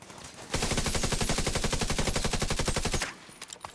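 A loud, sustained burst of automatic weapon fire in The Division 2, a fast even rattle of shots lasting about two and a half seconds before cutting off into quieter ambience.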